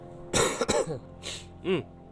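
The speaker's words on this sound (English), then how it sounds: "I just need to have a quick cough" A few sharp, close coughs with some throat clearing, in short bursts separated by brief pauses.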